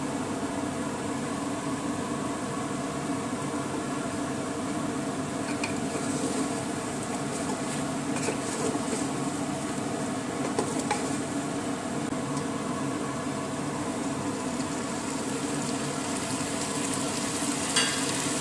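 Chicken biryani with ground biryani masala sizzles and fries steadily on a high flame while being stirred, a continuous close hiss with occasional scraping stir sounds and no talking.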